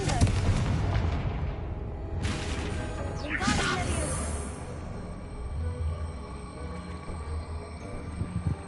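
A spell blast in Hogwarts Legacy goes off in a sharp burst of crackling, whooshing explosive noise with a rushing sweep through it. A fading rumble follows, over quiet ambient game sound.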